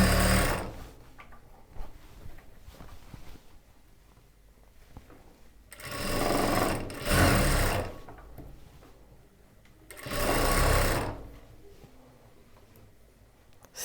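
Sewing machine stitching the slit of a churidar top through lining and main cloth, heard in three loud whirring bursts of a few seconds each, separated by quieter handling sounds.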